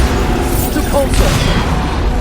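Depulso force spell cast in Hogwarts Legacy during a fast-paced battle: a dense, loud rush of magical force with deep booming low end, sustained throughout amid busy combat noise.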